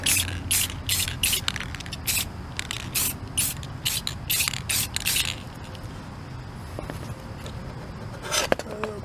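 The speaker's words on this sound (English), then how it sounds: "I'm going to spray the underside of the wings first and the base." Short bursts of hissing aerosol spray onto a copper origami crane in a quick, irregular series, then a pause and one more burst, close up with faint handling noises.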